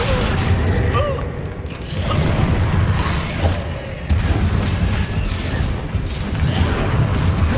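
The Bombarda explosion spell in Hogwarts Legacy: heavy booming blasts and shattering crashes over a busy, loud mix of combat effects, with a couple of sharp bursts standing out.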